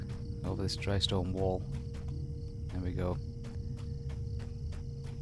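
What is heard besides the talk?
crickets chirping at night in Lord of the Rings Online video game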